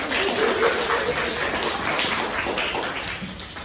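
Classroom applause for a classmate during a teaching practice lesson, a continuous wash of many small hands clapping, moderately loud and steady, with faint voices underneath.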